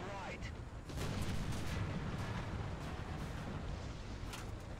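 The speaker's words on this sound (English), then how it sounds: "Come on, artillery, do your job." Artillery fire in War Thunder tank combat, a steady rumbling barrage of low booms and blasts that stays dense and loud, with speech partly mixed in.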